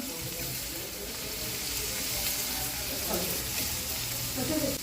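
Chicken 65 pieces deep-frying in oil and being turned over, a loud, steady bubbling sizzle throughout with occasional spoon scrapes, and voices talking faintly beneath the frying.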